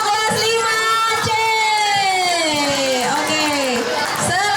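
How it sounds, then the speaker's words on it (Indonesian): Audience at a school Hari Santri Nasional celebration cheering and clapping for class 5C, a loud, sustained swell of children's shouts and whoops with scattered claps throughout. "Tepuk tangannya mana untuk kelas 5C?"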